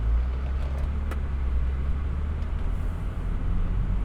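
A BMW with transmission trouble driving along, low steady engine and road rumble from inside the cabin with faint gear changes, a couple of light ticks, no talking.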